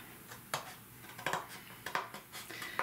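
Scissors cutting scrapbook paper along a marked line, a series of about six short crisp snips at an uneven pace, close and quiet with no talking.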